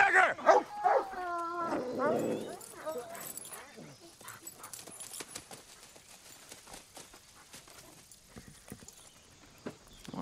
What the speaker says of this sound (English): Mr. Stone Sife, would you please shut these goddamn dogs up?